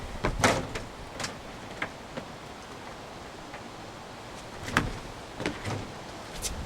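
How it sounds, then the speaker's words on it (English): A pre-assembled Andersen storm door slides into its door frame, producing scattered bumps, light knocks and scraping rustles of the frame being fitted, with quiet pauses between handling sounds. "So now that I've slid the storm door into the door frame"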